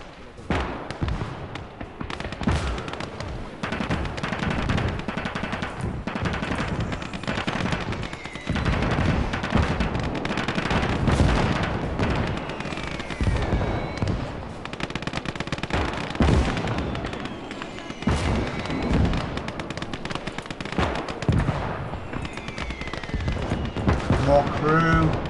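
Dense artillery blasts and rapid gunfire rumble continuously through a Call to Arms: Gates of Hell battle on the Winter War Ostfront, loud and layered with frequent heavy impacts.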